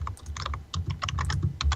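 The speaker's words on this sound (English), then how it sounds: "step away from the keyboard" Rapid typing on a computer keyboard clatters in quick irregular bursts with a short pause, close and clear with no talking.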